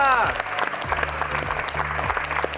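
Studio audience applause on an Indonesian television health talk show, a steady wash of many hands clapping at moderate loudness with a low hum beneath, alongside brief voice sounds.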